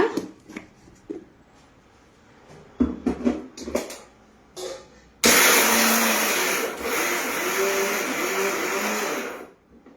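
A mixer grinder powders garlic with salt. Scattered knocks and clatter come first, then the motor bursts into a loud, harsh whir that runs for about four and a half seconds before cutting off.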